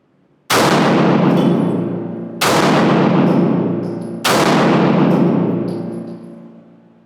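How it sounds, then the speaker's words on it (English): Three loud gunshots fired at a range while zeroing a red dot sight, each a sharp crack followed by a long ringing decay, spaced roughly two seconds apart with no talking. "Let's go to the circle number 3 and fire 3 rounds."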